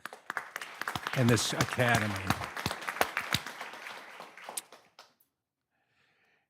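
Clapping at a school board meeting, with sharp individual claps mixed under voices, then an abrupt cutoff into near silence.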